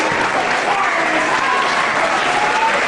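A wrestling crowd in Hemel Hempstead applauds, a dense, loud, even sheet of clapping that holds steady throughout.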